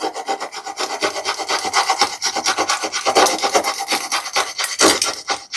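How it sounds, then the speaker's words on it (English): A knife scraped across a ceramic tile, giving a rapid, rhythmic gritty scratching in quick repeated strokes, loud and close with no talking. "We have this knife here, and we are going to start with the ceramic tile to see if it scratches or not."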